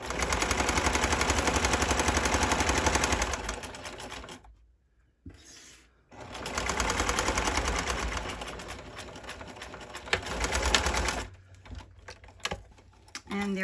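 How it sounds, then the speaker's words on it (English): Sewing machine running a regular side stitch along a seam on boxers, loud rapid needle chatter in long bursts, stopping briefly midway, then resuming in shorter stop-start runs; no talking. "We have sewn all the way around this area here"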